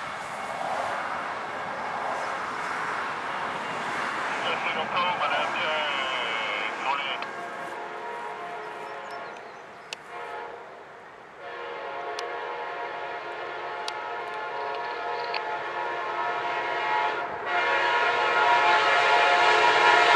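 Amtrak 20, a passenger train at CP Coleman, rumbles past at speed with a loud steady roar and clatter, a horn blaring early on, and the noise swelling again toward the end; a voice talks over the start.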